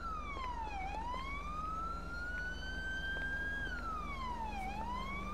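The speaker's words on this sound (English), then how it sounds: "What is with that siren?" A loud wailing European-style police siren in GTA V sweeps down and up in pitch continuously, with a low engine rumble underneath and no talking.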